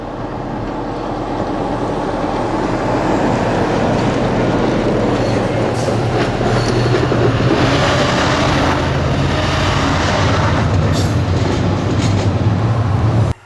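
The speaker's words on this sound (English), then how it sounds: "68002 and 68006 are seen heading towards the power station with 1 nuclear flask in tow." Class 68 locomotives 68002 and 68006 haul a single nuclear flask wagon toward a power station, a loud steady diesel roar and rail rumble building and holding close throughout, with faint wheel clicks layered on top.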